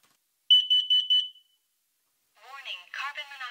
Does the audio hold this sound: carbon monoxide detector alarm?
yes